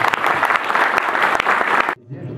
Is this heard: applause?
yes